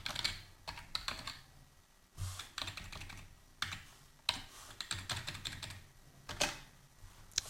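PHP code typed on a computer keyboard: close, clicky keystrokes in quick bursts separated by short pauses.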